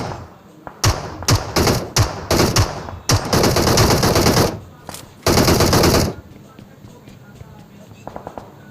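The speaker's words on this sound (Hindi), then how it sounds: "और जैसे ही यहाँ पे लूटूंगा ना, पीछे से फायरिंग आ रही होती" Gunfire in PUBG Mobile: several separate loud shots, then long, close bursts of automatic fire, with a voice talking over it.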